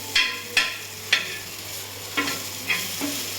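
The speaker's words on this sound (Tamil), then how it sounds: "அதெல்லாம் கொஞ்சம் எல்லாத்தையும் எண்ணெய் படுற மாதிரி நல்லா ஃப்ரை பண்ணுவாங்க" Podi idli tossed and stirred in hot oil in a pan, with six sharp scraping strokes spaced about half a second apart over a steady low sizzle, close and fairly loud, with no talking.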